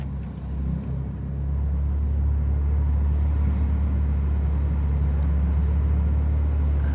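A manual-transmission car's engine idles steadily after being switched back on following a reset, a constant low rumble that settles in after a brief lift at the start, close and without talk.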